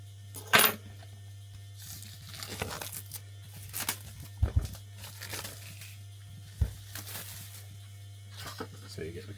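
A Quatermass Xperiment model kit from Imar is unboxed: a leather-look card box is opened and its packaging handled, with scattered crinkles, taps and rustles at close range against a low steady hum.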